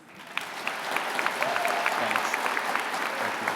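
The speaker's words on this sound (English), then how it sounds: "Can we hear the loudest applause for him, please?" An audience at a police academy graduation ceremony bursts into sustained applause, swelling quickly after a quiet start and holding as a dense wash of many hands clapping with a few louder claps standing out.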